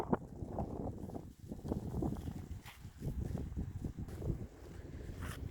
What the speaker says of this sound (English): Now, wait for the wind to die down.